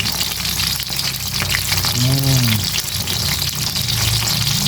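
Eggplant (pritong talong) frying in a pan gives a loud, steady, close sizzle and crackle that runs the whole time, with a brief tonal whine rising and falling in the middle.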